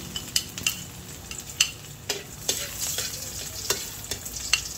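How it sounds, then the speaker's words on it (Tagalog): Garlic sautés in hot oil in a pan for a sweet and sour fish dish, a steady close sizzle punctuated by the light clinks and scrapes of a spatula stirring it at irregular intervals. "Lalagay ko na po itong bawang."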